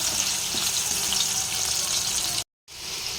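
Pumpkin pieces fry in hot oil in a pan, a loud, steady bright sizzle that holds continuously, broken by a brief silent gap before resuming.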